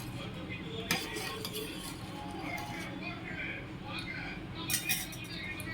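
Spoon stirring salt into coconut milk rasam in a pot over a low flame, with soft scraping and occasional metallic clinks against the pot throughout, close and fairly quiet, and a voice speaking over it.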